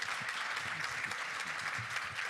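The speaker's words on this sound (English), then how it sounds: "So let's give a round of applause." Applause from the audience at a policy event on PEPFAR and global HIV progress, a fairly soft, even patter of many hands continuing throughout with a faint murmur beneath.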